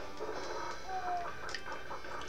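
Chickens in a PlayStation Classic video game give soft, scattered clucks over a busy game soundscape, fairly faint and close together.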